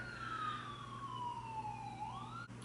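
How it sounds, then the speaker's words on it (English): An ambulance siren outside wails in a long, slowly falling tone that swoops back up near the end, fairly faint and muffled, heard from indoors. "I think the ambulance is gone"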